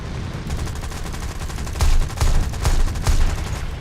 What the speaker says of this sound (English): And my gun's overheating.